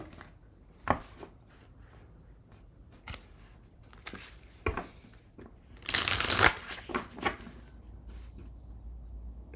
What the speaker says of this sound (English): Time to shuffle and move on to Scorpio.